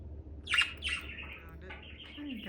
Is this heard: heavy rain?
no